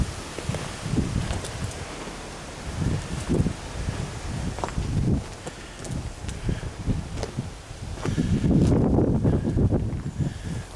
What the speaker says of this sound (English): As you can probably hear, it's a little windy